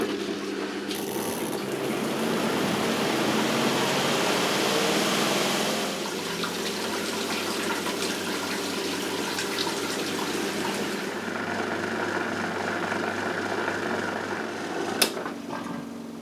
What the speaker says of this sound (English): We need to drain out the cold water.